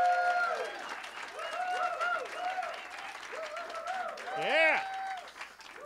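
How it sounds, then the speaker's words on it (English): Audience applause and cheering for earlier speakers at a Long Island charity gathering, a continuous crowd clatter mixed with voices and whoops that swells briefly near the end. "let's give an applause and some affirmation to all the people who've been up"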